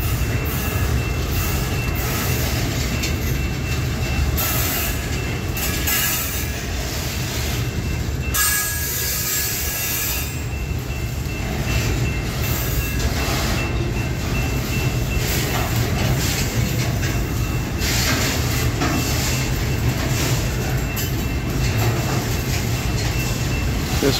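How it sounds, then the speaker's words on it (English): A long CSX steel freight train rolls steadily past in Plymouth, Michigan, its wagons producing a continuous loud rumble with rhythmic wheel clatter and occasional squealing of the wheels throughout. "This train is stretching way out."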